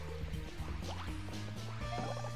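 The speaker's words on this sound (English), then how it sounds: "Is it gonna fill the lake with water?" Water filling a lake in Paper Mario Color Splash, a soft stream of dripping, bubbling and gurgling over faint game music, with no voices.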